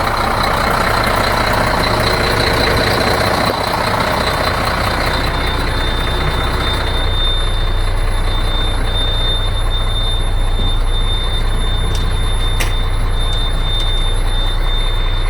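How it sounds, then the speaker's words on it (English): A steady alarm tone sounds continuously inside a 7-ton MTVR military truck, warning of low air pressure for releasing the brakes, held over the loud rumble of the idling engine with a faint high squeal. "the alarm that you hear is the air pressure alarm"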